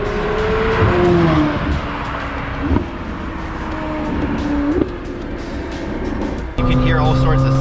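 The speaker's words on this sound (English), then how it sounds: "that V8 back there sounds so good" A McLaren 750S Spider's V8 engine roars and revs at speed, loud throughout, with gear shifts and a sharp jump in pitch near the end.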